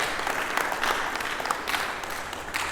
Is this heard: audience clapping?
yes